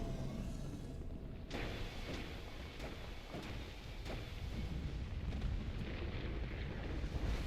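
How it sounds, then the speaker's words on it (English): Bombs burst repeatedly during the Heir boss fight in Dark Souls II, a dense rumbling wash of blasts with several sharp detonations spread across the stretch, loud and continuous with no talking. "There's the bombs once again."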